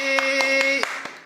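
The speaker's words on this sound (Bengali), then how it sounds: "হাততালি" Hands clap in a quick, even rhythm at a child's birthday party, several sharp close claps over a steady sustained musical tone, with no speech.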